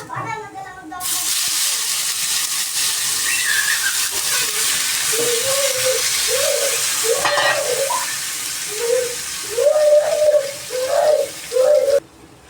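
Mustard seeds and chopped tomato with a dried chilli sizzle and fry in a hot pan, a steady hissing crackle that swells and pops toward the end, with a spoon stirring.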